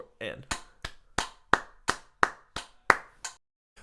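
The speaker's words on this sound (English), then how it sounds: "Let's clap together these eighth notes." Hands clap a steady run of eight sharp, evenly spaced claps in eighth notes, close and fairly loud, with a brief voice or click before the first clap.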